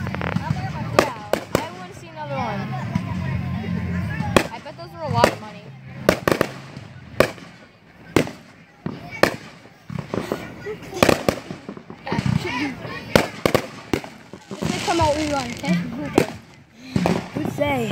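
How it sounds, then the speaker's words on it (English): Repeated sharp bangs and crackles of fireworks going off in bursts, loud and nearby, with people talking and shouting between them. "I love the firework."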